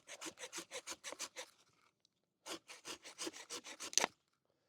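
A crooked hand saw cuts into a tree trunk in quick rhythmic rasping strokes, about eight close strokes, a pause of near silence, then another run of strokes ending in a sharp knock.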